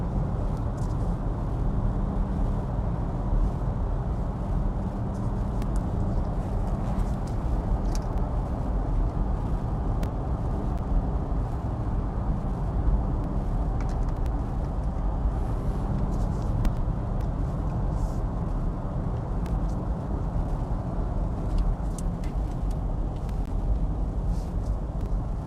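An electric Kia EV6 AWD on a cold morning road: a steady broadband rumble of tyre and road noise with a low hum runs continuously and evenly throughout, with no voices.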